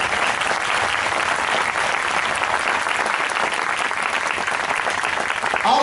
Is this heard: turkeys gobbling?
no